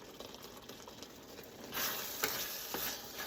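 A pot of rice water boils on a stove with a faint, steady bubbling hiss that swells louder partway through, broken by a few soft pops.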